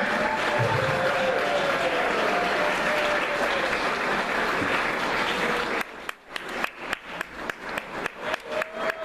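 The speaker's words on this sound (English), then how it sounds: "Another round of applause, everyone." A full audience applauds the performers at a magic show, a thick wash of clapping for about six seconds that then thins into a few scattered, rhythmic individual claps fading toward the end.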